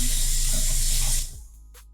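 Shower spray running steadily during rinsing in a wheel-in shower, a close hissing rush that stops abruptly near the end, leaving quiet room tone.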